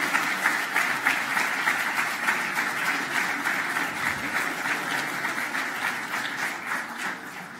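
Big crowd applauding at a Socialist Party campaign lunch rally in Évora, a loud, sustained roar of clapping that stays dense and even throughout.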